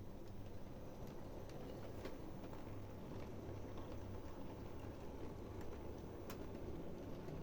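A model train pulls a line of Blue Circle cement wagons through a shunting layout, giving a steady close rumble and hiss of running wheels with faint clicks from the track.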